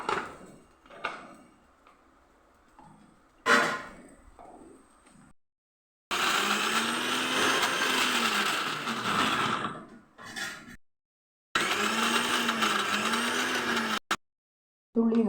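A kitchen mixer grinder crushing garlic runs in two loud, steady whirring bursts of about four and three seconds, each stopping abruptly, after a few brief pulses and quiet handling knocks.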